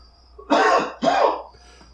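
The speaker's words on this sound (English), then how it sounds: "And now I have to leave that cough in the podcast when normally I would edit it out" Two harsh coughs in quick succession from one person close to the microphone in a quiet podcast room, followed by a faint throat sound.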